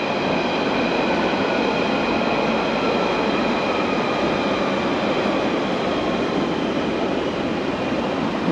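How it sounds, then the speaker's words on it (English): A London Underground Central Line train rumbles steadily across a bridge near Fairlop with continuous rolling noise and a faint metallic whine, loud and close throughout. "Oh, you got a train heading across the bridge."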